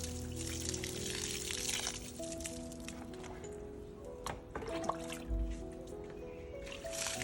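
Water pours and trickles onto soil in a soft continuous stream, fairly close, with faint background hum and a few brief knocks.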